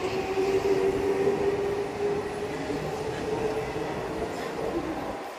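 Steady rumble of a train in motion, with a continuous mid-pitched hum running throughout and faint voices beneath.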